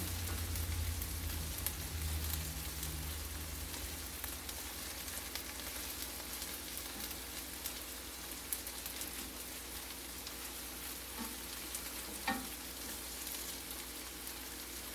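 Meatballs frying in a pan, a steady soft crackling sizzle like light rain, continuous and fairly quiet for the whole stretch with an occasional small pop and no talking.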